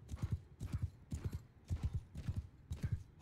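Galloping horses of mounted archers in the medieval battle game Mount & Blade II Bannerlord, a rapid, rhythmic clip-clop of hooves in repeated bursts, loud and close throughout.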